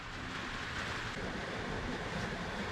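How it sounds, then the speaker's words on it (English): Steady rain pours down outside during a hot-weather storm in Australia, a dense continuous hiss with no pauses, heard alone at a moderate distance. "Can you hear the rain?"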